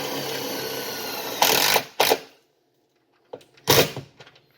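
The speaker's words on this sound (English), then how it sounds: "run two of these little self-tapping screws in to hold it in place" A power drill whines in short bursts while driving self-tapping screws into the frame of a Saturn Sky, two loud runs, a pause of near silence, then another burst with clicks.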